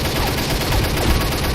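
ARX-160 rifle firing in the Combat Arms video game on an oil rig map, a rapid burst of automatic shots with sharp cracks, loud and dense for a brief moment.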